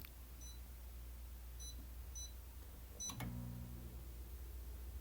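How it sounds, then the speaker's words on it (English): Short electronic beeps from an oven control panel as the temperature is set to 350 degrees, a few faint, evenly spaced tones in a quiet kitchen, followed by a soft thump and low hum. "Set this oven on 350 degrees"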